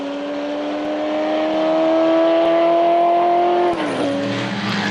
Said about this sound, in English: TVR Grand Tourer from 1963, four-cylinder car of course.